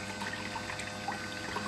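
Water runs steadily into a blue bowl gold concentrator at a high desert highbanking dig, a quiet continuous trickling pour with a low steady pump hum underneath.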